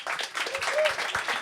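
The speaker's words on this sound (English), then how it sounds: "Round of applause." Audience at a music-industry panel seminar claps briefly for a panelist being introduced, a short burst of scattered applause with some voices mixed in.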